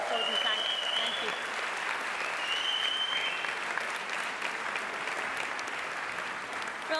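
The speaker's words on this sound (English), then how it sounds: "can we offer Les a huge round of applause and thank you" A concert-hall audience at a Scottish regional brass band championship gives a sustained round of applause, dense and steady throughout, with a few faint voices mixed in.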